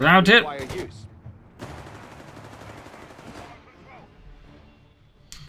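A squad of Fallschirmjäger opens fire on engineers in Company of Heroes 3, a dense, sustained rattle of gunfire that starts after a brief voice and carries on for several seconds before thinning out.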